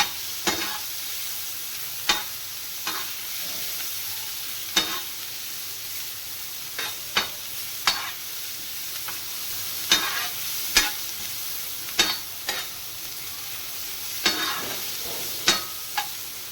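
Qeema ingredients fry on a hot tawa with a steady soft sizzle, broken by sharp, evenly spaced clacks and scrapes of a spatula stirring, close and moderately loud, with no talk.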